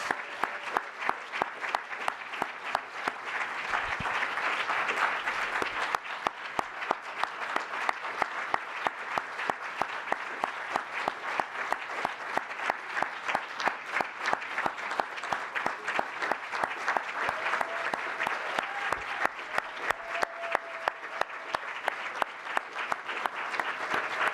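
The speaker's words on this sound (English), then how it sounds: "A big round of applause to our 2018 McSilver honorees." Audience at the 2018 McSilver Awards applauding the honorees, a sustained dense round of clapping from a large crowd that holds steady for over twenty seconds with no speech on top.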